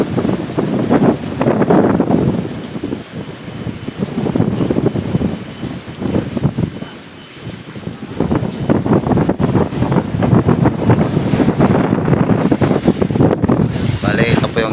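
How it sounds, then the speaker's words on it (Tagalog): A strong typhoon gusts across a rooftop deck, buffeting the microphone in heavy, surging roars that rise and fall in waves, with a brief lull partway through. "Lakas ang hangin,"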